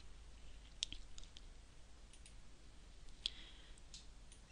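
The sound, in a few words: mouse clicking on a website editor button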